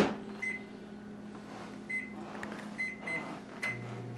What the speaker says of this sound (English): if you use melted margarine, it's... in the microwave